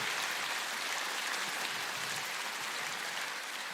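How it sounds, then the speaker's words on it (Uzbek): A concert audience in a hall claps steadily, a dense even wash of applause that stays at a constant level throughout, with no voices standing out. "Bitta chiroyli qarsak chalib qo'ysanglar bo'ladi."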